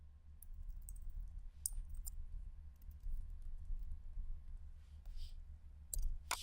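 A password is typed on a computer keyboard in sparse, separate key taps spread over several seconds, close and faint above a steady low hum, with no voices.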